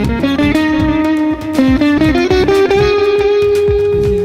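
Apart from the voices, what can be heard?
electric guitar with sitar bridge played through effects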